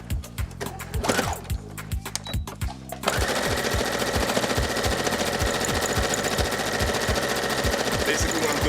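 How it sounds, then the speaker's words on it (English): A regular household sewing machine straight-stitching the hem of a Haiti flag, first running in quick pulsing bursts, then settling into a loud, steady continuous whir of rapid needle strokes at close range. "This is just a regular sewing machine, which is good for straight stitching."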